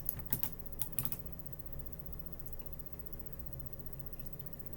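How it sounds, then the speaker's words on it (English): A few sharp computer keyboard key clicks in quick succession near the start, then quiet room hum with one faint tap later. "When I press down on the keyboard"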